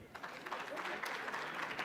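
Applause for a young man named Donasiye, a fairly faint but continuous patter of many hands clapping, with some voices mixed into the crowd noise.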